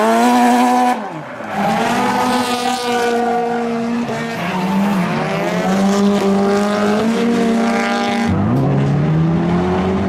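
A Nissan S15 Silvia drifting, its engine roaring loud and close with sustained high revving and gear-shift dips, accompanied by tire squeal throughout.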